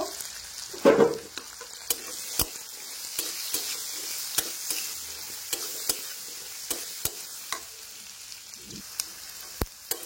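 Salted potatoes sizzle steadily in a hot pan while a utensil stirs, scraping and tapping against it at irregular intervals.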